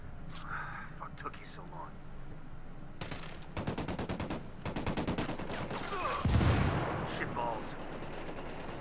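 Rapid bursts of automatic gunfire crack in the shooter game Ghost Recon Wildlands, clustered volleys and single shots with a heavier boom near the end, while a voice talks over the firefight.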